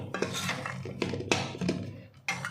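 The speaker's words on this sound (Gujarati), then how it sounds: "ડ્રાયફ્રૂટ ઉમેરી દે પછી આપણે મિક્સ કરીશું સરસ મિક્સ કરીને" Dry fruits being stirred into sukhdi, a jaggery and ghee sweet, in a pan: close, clattering scrapes and clinks of a metal spoon against the pan in uneven bursts, fairly loud, with no talking.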